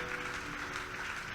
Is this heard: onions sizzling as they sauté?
no